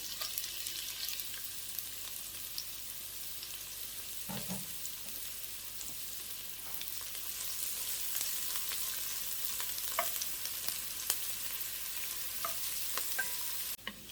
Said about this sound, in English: our oil is hot, so we're just going to add our onion in there